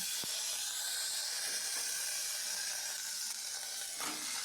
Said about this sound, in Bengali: ওই তেলের মধ্যে আরও খানিকটা তেল দিয়ে আমি আদা লঙ্কার পেস্ট দিয়ে দিলাম